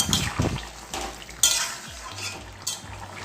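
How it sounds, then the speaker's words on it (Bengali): A spoon stirring mixed vegetables cooking in a pan, with a few scraping, clinking strokes against the metal over a faint simmer, close and with no talking. "সবজিটা এখন আমি নেড়ে চেড়ে দেখে নেব কতটা সিদ্ধ হয়েছে"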